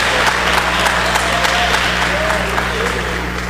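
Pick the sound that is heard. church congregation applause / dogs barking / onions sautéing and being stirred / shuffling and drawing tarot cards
church congregation applause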